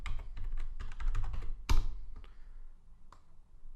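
Quiet, close computer-keyboard typing as a password is entered: a quick run of key taps, one louder clack, then a few sparse presses.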